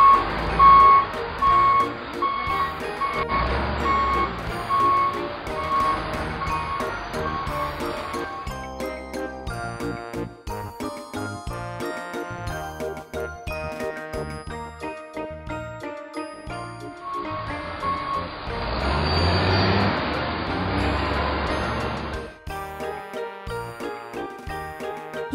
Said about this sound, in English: Yellow. Backhoe.